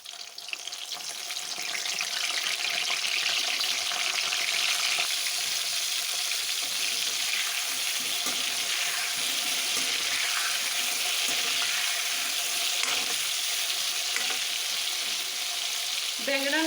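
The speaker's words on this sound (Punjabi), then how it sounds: "ਹੁਣ ਅਸੀਂ ਬੈਂਗਣ ਵੀ ਇਹਦੇ ਵਿੱਚ ਫਰਾਈ ਕਰ ਲਾਂਗੇ" Potatoes and brinjal fry steadily in a pan for a spicy aloo baingan dish, a continuous loud, close sizzle with occasional stirring scrapes and no voices.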